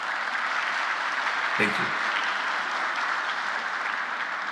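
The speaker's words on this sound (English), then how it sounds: "Please join me in applause" An audience applauds after a presentation at an internet measurements working group meeting. The clapping stays even and moderately loud throughout, and a voice briefly says thanks over it.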